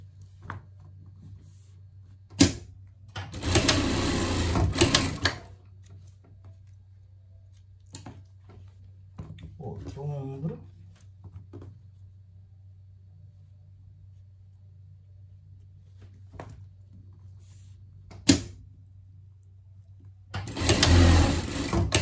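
A domestic sewing machine stitches the shoulder seams of a pet sweatshirt in two short bursts of rapid mechanical whirring, separated by quiet stretches with a low hum, a few isolated clicks, and faint handling sounds.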